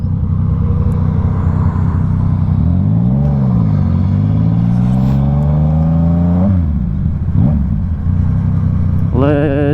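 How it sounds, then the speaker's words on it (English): A big truck passes close by, its loud engine rumble rising and falling in pitch as it goes, with other traffic continuing around it and a brief burst of revving near the end. "that's a big truck."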